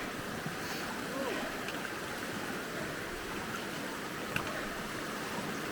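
Steady rushing of stream water flowing continuously at a trail crossing in the Smoky Mountains, a broad even wash of sound with no clear pauses, moderately close.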